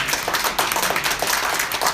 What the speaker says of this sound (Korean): 모두 박수 한번 쳐주시기 바랍니다